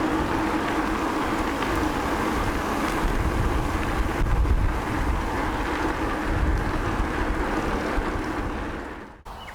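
Wind buffets the microphone on a bike ride along paths around Bendigo, a loud continuous low rumble and roar that fills the whole stretch before briefly dipping near the end.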